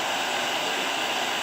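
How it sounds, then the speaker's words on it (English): A blow dryer on a low setting runs steadily while drying a small Coton de Tulear dog after a bath, a close, even broadband whoosh of airflow that stays level throughout, with no one talking. "a low setting for the actual blow dryer"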